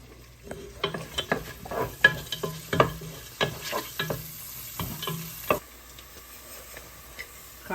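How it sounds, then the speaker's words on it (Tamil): Mustard seeds hit hot oil in a pan, where cardamom and cinnamon were already added for a beef curry, crackling with a quick irregular series of sharp pops and a light sizzle nearby. "கடுகு போடுறேன்"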